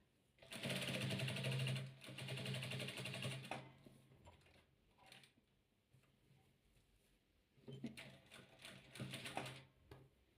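A sewing machine stitches patchwork in rapid mechanical bursts, with two long runs of fast rattling and a shorter burst near the end, separated by quiet pauses and a few faint clicks.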